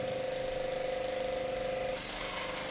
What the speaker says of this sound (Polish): Słyszymy, że pompa pracuje poprawnie.